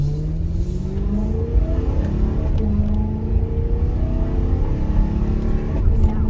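A BMW E93 M3 engine on lowering springs hums and rises in pitch as it accelerates, with the tone dropping and climbing again at gear changes, a steady interior drone.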